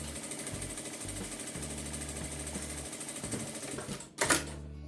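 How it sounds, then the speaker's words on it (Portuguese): A sewing machine runs steadily, joining two small pieces of fabric for a notebook cover flap with a rapid, continuous mechanical stitching whir. Near the end the motor stops and there is a brief louder clatter. "Aqui eu posso estar passando uma costura também para unir esses dois tecidinhos."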